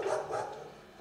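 Dogs barking and whimpering close by in a short, steady burst, with no talk over them.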